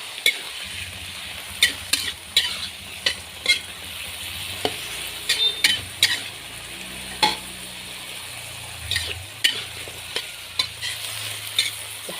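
Carrots and green beans are stir-fried for Betawi-style capcay, with a constant low sizzle broken by sharp, irregular clinks and scrapes of a spatula against the pan.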